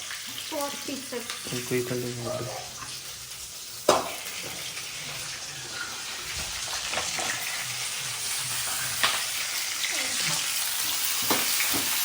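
Chopped tomatoes fry and are stirred in a home kitchen pan, producing a continuous sizzle with scraping stirs and a sharp clatter, while voices talk faintly over the cooking at the start.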